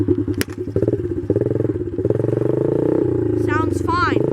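A dirt bike engine that needs oil runs in first gear, chugging with a low, pulsing putter close by, while a person talks over it.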